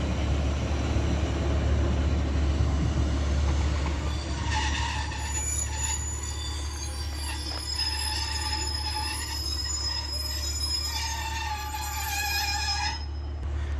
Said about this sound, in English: Now departing is the delayed, I think 12:58 Northern service to Blackburn